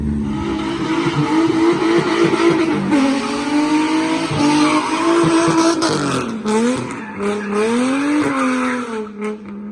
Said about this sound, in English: But he tried to drift the front wheel drive.